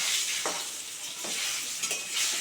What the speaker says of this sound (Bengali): দেখেছো, লাল করে মাছের মাথা ভাজা হয়ে গেছে।